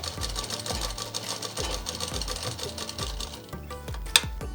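A sewing machine runs in steady rapid bursts while stitching a sleeve onto a plain cotton-style frock at a tailoring table, the motor whirring continuously with brief pauses and a sharp click near the end.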